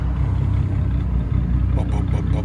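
A 2002 GMC Envoy V6 with a straight-pipe exhaust rumbles steadily at close range, a deep continuous drone with slight pulsing.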